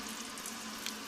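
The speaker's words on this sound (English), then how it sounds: "Wonderful water from the shower." Water runs steadily from the shower of an RV touring Europe, a soft continuous hiss with no voices.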